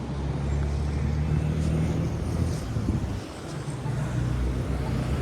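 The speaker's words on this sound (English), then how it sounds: "The traffic here gets really hefty at times, especially around here." Steady road traffic on Highway 7 near Unionville in Markham, Ontario, a continuous low rumble of passing vehicles heard from the roadside with gusty wind buffeting the microphone throughout.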